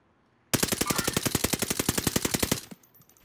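Automatic weapon fire in Call of Duty Warzone on the Caldera map, one long rapid burst of evenly spaced loud shots that stops abruptly, followed by a brief faint tail.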